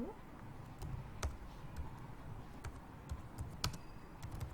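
Typing on a computer keyboard during web design work, with scattered sharp key clicks at an irregular pace over a steady low background hum.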